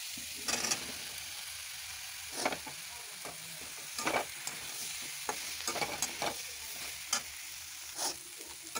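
Vegetables and eggplant sautéing in a pan give a quiet, continuous sizzle, broken by repeated sharp scrapes and clatters of a spatula stirring at an irregular rhythm.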